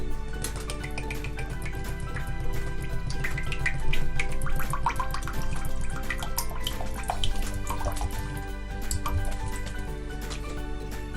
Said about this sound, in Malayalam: ഇനി നമുക്ക് വറുക്കാനുള്ള എണ്ണ ഒഴിച്ചു കൊടുക്കാം